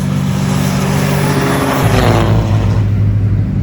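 A diesel race truck drives on a race track at a Skyline GT-R trackday in Thailand, its loud, steady engine roar rising and deepening as it nears and passes close by, with no talk over it.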